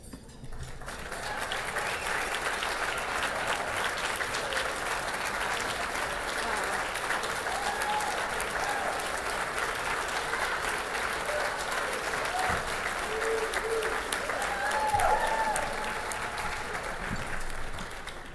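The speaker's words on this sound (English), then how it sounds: "please stand and let us give you a round of applause" A sustained round of applause for veterans at a medical charity gala fills the hall for about eighteen seconds, broad and even, with a few faint voices and cheers rising near the end.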